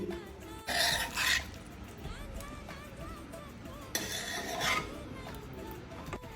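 Fried mushrooms being stirred in a pan, with two bursts of clattering utensil scrapes against the pan and quieter stirring between them, close and fairly loud.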